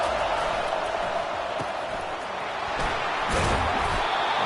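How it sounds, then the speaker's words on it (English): Stadium crowd noise from a college football video game, College Football 25 dynasty mode: a steady, dense roar of a large crowd filling the whole clip, with a brief swell near the end and occasional thumps underneath. "Listen to the crowd energy here in the early going."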